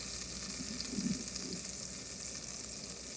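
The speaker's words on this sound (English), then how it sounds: "So we get about 2 tablespoons of butter melting up in here." About two tablespoons of butter melting in a pan for a roux, a soft continuous sizzle and faint frying crackle at low volume with no speech.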